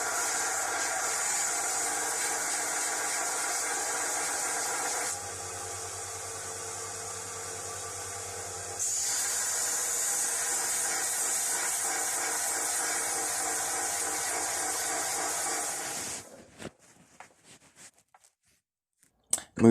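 A belt sander fitted with a 120-grit belt cleans up the edges of Rededa 251 vise jaws, giving a steady, loud whirring grind that shifts in tone as pressure changes, then cuts off and winds down near the end.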